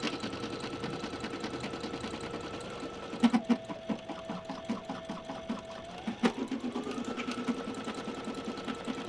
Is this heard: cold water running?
no